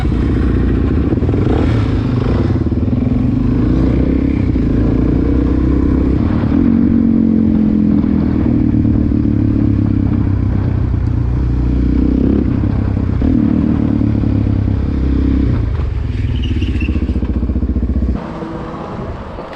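A Suzuki DRZ400SM supermoto motorcycle roars loudly and steadily through a wheelie, its engine note sustained and close for most of the run before dropping off near the end.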